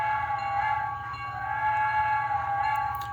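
Broadway Limited Mikado model steam locomotive sound effects: a steady chuffing rumble under a sustained whistle-like tone, smooth and even, as if heard from a distance.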